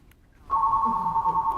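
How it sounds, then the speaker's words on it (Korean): Electronic telephone ring tone signalling an incoming call at a call-center agent's station, a steady single tone that starts abruptly and sustains, fairly loud and close. "상담원이 전화가 왔고요."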